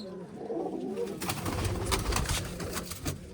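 Pet pigeons, including young birds of the year, cooing steadily at close range in a loft, a continuous soft throaty burbling with faint background noise and no clear talk.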